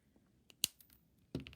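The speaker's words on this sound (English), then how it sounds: "I'm going to trim off the tail." Wire cutters trimming the wire tail on a wire-wrapped bangle, a single sharp close snip followed by a duller clack of the tool moving, faint and without talk.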